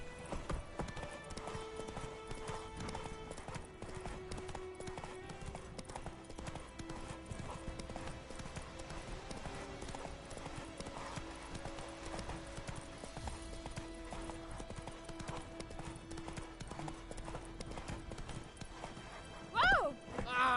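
Hoofbeats of Geralt's horse Roach clop steadily in The Witcher 3 over a continuous bed of game music and ambience, with a brief louder burst near the end.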